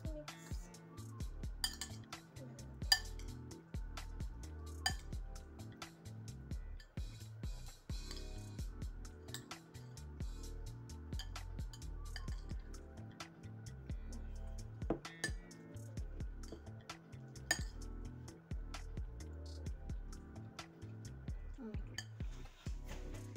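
Egg whisked in a bowl with a utensil at breakfast, a steady run of quick light clinks and taps of metal against the dish, close and fairly quiet, continuing unbroken throughout.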